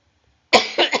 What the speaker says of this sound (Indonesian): Batuk nih Bapak Ibu, mohon maaf ya.